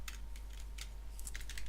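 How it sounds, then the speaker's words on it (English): Keys on a computer keyboard tapped in a quick, uneven run of light clicks over a steady low hum, close and clear. "typing"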